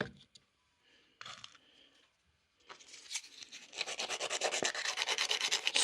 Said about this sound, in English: Score up the head of that rivet.